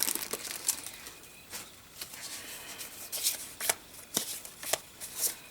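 Paper die cuts and journal cards shuffled and flicked through by hand, a series of close, crisp papery riffles and taps in irregular bursts.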